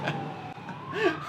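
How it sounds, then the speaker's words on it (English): A police car siren wails in the distance as it drives past outdoors, a faint rising tone beneath a low hum of street noise. "a cop car will drive by, or an ambulance, or a helicopter"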